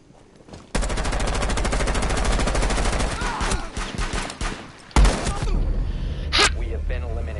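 Rapid gunfire in the video game Rainbow Six Siege, with loud, dense bursts rattling for several seconds, a sharp separate blast after a brief pause, and shooting continuing afterward.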